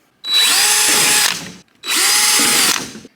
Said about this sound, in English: I'm just gonna drill them right in the center.